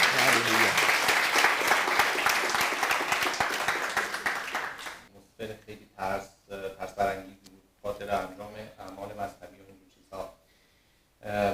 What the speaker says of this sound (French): On peut l'applaudir, vraiment l'encourager.